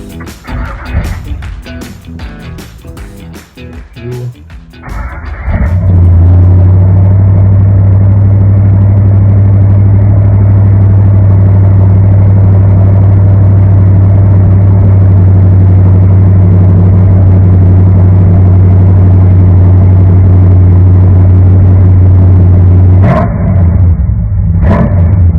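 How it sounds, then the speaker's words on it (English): Chevrolet 350 V8 in a C10 pickup truck: a few seconds of clicking and rattling, then the engine fires and settles into a loud, steady, deep idle rumble that runs for nearly twenty seconds. "just to show you the motor on this thing again. Look at that beautiful Chevrolet 350."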